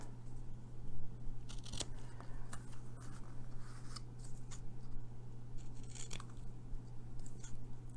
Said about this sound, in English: And I'm just cutting this one out.